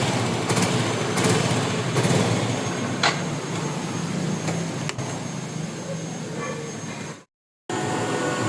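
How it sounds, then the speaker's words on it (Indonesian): Yamaha Fino 125 fuel-injected scooter engine revved with the throttle opened while the scooter stays put, running rough and sputtering; a loud, steady, close drone with crackling bursts that cuts out abruptly near the end, then resumes. "Ya, digas nggak mau jalan tuh,"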